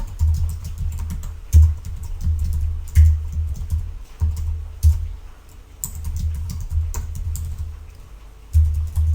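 Fingers tapping out a file name on a computer keyboard, quick bursts of close key clicks with brief pauses between them, no voices present.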